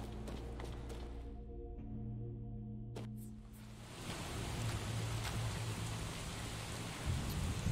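Steady rain falls in Skyrim, a broad continuous hiss that swells after a quieter start with a few game tones, with no talking.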